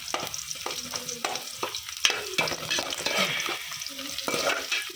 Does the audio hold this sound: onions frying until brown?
yes